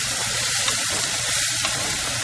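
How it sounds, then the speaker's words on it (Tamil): Crab curry ingredients sauté in a hot pan, giving a steady, loud, close sizzle and frying hiss with faint stirring and no talk. "போட்டு வதக்கணும்"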